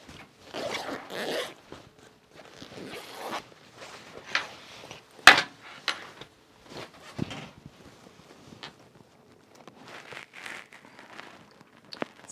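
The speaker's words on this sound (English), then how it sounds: "Let's undo it all, and we'll put the zipper heads on." Zipper heads being worked onto a duffle bag zipper during sewing: short scattered zips and clicks with pauses between, close up, plus a sharp knock partway through.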